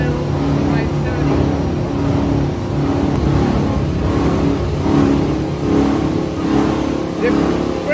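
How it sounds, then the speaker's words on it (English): A Guidetti SINCRO Mill 530 cable recycling machine, fed scrap cable by conveyor belt through a 20 mm grid, runs with a loud, continuous mechanical drone and hum throughout. "cable, which passes through a 20mm grid and goes with a feeding conveyor belt into our Guidetti SINCRO Mill 530."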